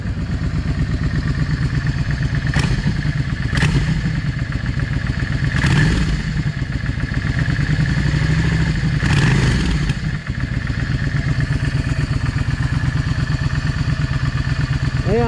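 A Yamaha V Star 650 motorcycle idles steadily at close range, running lean, and sharp backfire pops break through the engine's even throb several times, with no voices over it.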